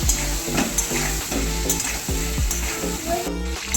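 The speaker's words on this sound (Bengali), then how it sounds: "আমি কিন্তু আলুটাকে ভাজা ভাজা করে নিচ্ছি" Salted potatoes seasoned with turmeric fry in hot oil for an egg do-pyaza. A dense, loud, crackling sizzle fills the moment, with quick repeated scrapes and clatter as they are stirred and tossed.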